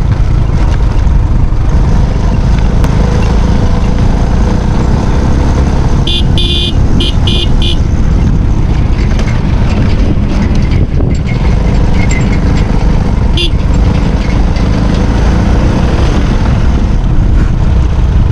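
A TVS XL 100 moped on the road, a loud, steady engine drone with heavy wind rumble and passing traffic, plus a brief burst of horn honks partway through.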